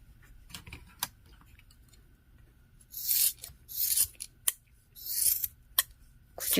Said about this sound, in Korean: 길이 맞춰서 자르시면 됩니다